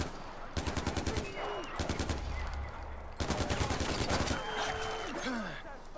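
Sniper and automatic gunfire in Far Cry 4, heard as several rapid rattling bursts separated by short pauses, with whining tones sweeping between volleys.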